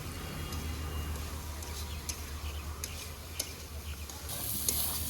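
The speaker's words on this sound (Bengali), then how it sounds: "সব মিশিয়ে সুন্দর করে ভেজে নেব" Semolina and mixed winter vegetables fry together in a pan for upma, making a soft, steady sizzle with faint, scattered ticks of stirring against the pan.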